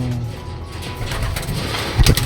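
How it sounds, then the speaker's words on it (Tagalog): White flight pigeons at a breeding loft give soft, low cooing close by, with a brief louder flutter or rustle near the end. "So ito mga kalapatids, ito nga yung white flight"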